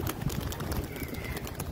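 Pigeons stirring and taking off from their enclosure, a dense close-up flurry of soft wing flaps and shuffling alongside low cooing and bird calls, continuous and busy throughout.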